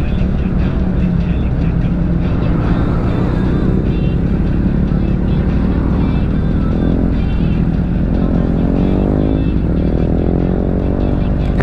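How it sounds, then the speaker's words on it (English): A crowd of motorcycles gathered at the Ace Cafe for a reunion ride to Brighton, engines rumbling and idling steadily nearby in a dense, continuous low drone with faint voices mixed in. "As you can see, I'm amongst a load of bikes."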